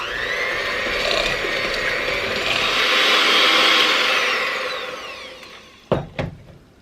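An electric hand mixer beats brown sugar, butter and vanilla for pound cake batter, a steady loud whir that rises and then fades out, followed by a couple of sharp knocks at the end.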